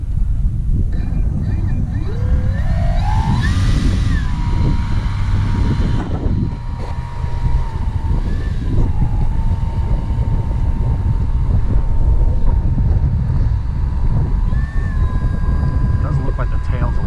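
The Seniorita RC model plane taxis around on the taxiway, its motor whine climbing in pitch and then holding a steady tone with small shifts, under gusty wind rumble and occasional muffled talk.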